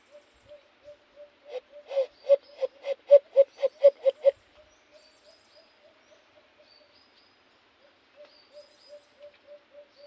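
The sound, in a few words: bird calls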